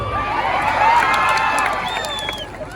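A lively audience at a Marathi religious discourse by Ramgiri Maharaj breaks into mixed cheering, laughter and scattered clapping, a dense crowd swell lasting a few seconds.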